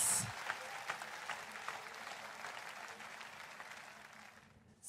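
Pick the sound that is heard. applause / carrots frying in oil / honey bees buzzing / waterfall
applause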